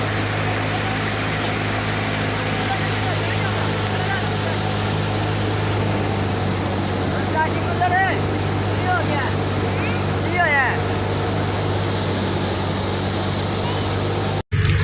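A tractor-driven wheat threshing machine runs in a farm field, a loud, continuous mechanical hum and rumble that stays steady throughout and is close to the microphone, with a voice faintly under it.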